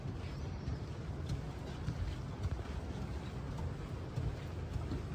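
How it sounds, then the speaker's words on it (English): Steady broadband wind noise buffeting the microphone at the base of the Walkie Talkie skyscraper at 20 Fenchurch Street, a continuous roaring rush with gusty swells and no speech. "which is the wind tunnel effect"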